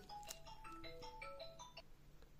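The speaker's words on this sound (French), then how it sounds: "Et Lilou a oublié de mettre son téléphone en silencieux." A mobile phone ringtone plays for an incoming call, a quick bright melodic sequence of tones repeating, fairly faint in a quiet room.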